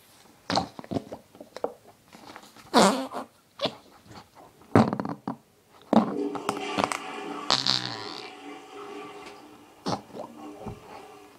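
Farting noises come in a run of short, separate bursts spread across the clip, with a longer, drawn-out squeaky one in the middle and quiet gaps between them.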